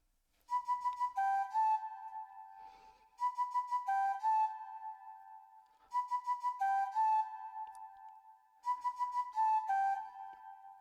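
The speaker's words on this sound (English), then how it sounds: "I decided to go with a flute that sounds like this." A bright flute melody plays short repeated phrases with quick trilled notes, four similar bursts separated by brief pauses, clear and close with no talking.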